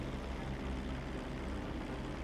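Helicopter flying in GTA V, a steady, loud, broadband rotor and engine roar that holds constant without any talk.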